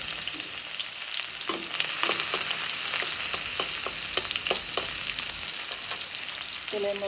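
Onions dropped into hot oil for a prawn and Malabar spinach curry, a loud steady hiss of frying with a series of sharp spatula taps and stirs, nearby and unaccompanied by speech.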